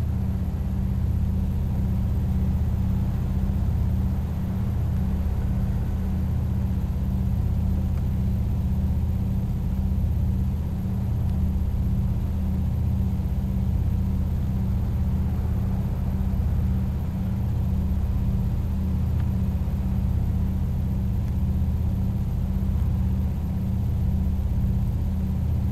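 A truck engine rumbles from mid-cab in Euro Truck Simulator, a loud steady low drone with a faint revving rise, continuous throughout with no talk.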